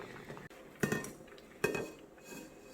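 Crab soup with clams being ladled into a bowl, giving two sharp clinks of utensil against dish over a low, steady kitchen background.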